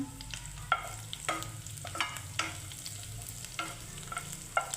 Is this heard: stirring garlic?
yes